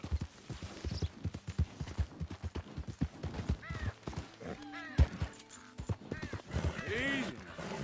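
Horse hooves clip-clopping at a quick steady trot in Red Dead Redemption 2, close and crisp with a few snorts and short spoken words mixed in.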